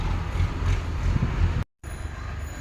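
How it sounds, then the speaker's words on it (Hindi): A sewing machine stitches along the neckline of a designer blouse, running over potli fabric laid on the main fabric. Its steady, close mechanical whirring with low rumbling pulses runs continuously, stops abruptly for a moment, then resumes slightly quieter. "इस तरह से मैंने पूरे नेक राउंड पे ऊपर एक स्टिच लगा लिया है"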